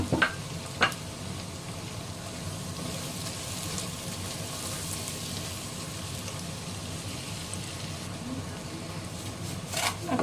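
Onions frying in a pan over steady medium heat while Dahi Wali Bhindi is cooked, a soft continuous sizzle with a couple of sharp clinks near the start and end, quiet and close.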